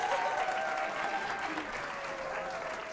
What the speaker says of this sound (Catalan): s'escapaven uns aplaudiments